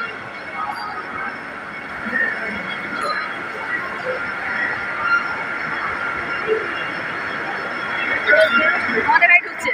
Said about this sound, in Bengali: আমাদের গাড়ি ঢুকছে।